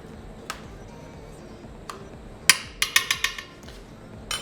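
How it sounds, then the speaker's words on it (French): Caramelized side-dish vegetables are broken up with a utensil in a pan, giving scattered sharp knocks that gather into a quick run of five or six close, hard taps near the end, with no voices. "On va les mélanger et on va les un petit peu les casser."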